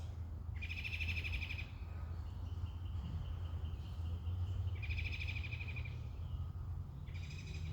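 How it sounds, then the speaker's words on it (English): A bird calls at night in a cemetery, repeated high bursts of chirping in three clear bouts with a softer trill between them, carried over a steady low hum. "The bird has a lot to say."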